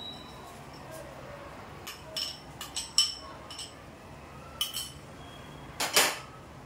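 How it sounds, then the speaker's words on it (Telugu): A spoon stirs carrot and badam halwa with dry fruits in a pan, giving scattered scraping clinks and metallic taps in irregular bursts, fairly close but soft, with a sharper clatter near the end. "డ్రై ఫ్రూట్స్ని వేసుకున్న తర్వాత ఒకసారి మనం ఇలా కలుపుకొని"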